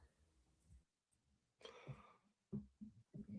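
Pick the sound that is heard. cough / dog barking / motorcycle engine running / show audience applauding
cough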